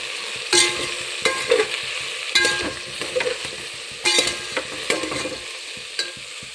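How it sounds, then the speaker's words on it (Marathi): Turmeric and onion-garlic masala gets stirred in a pan for spiced masale bhat rice, with a series of scraping strokes over a soft sizzle, close and clear. "हळद आणि कांदा लसूण मसाला. आता चांगले मिक्स करून घेऊया आपण."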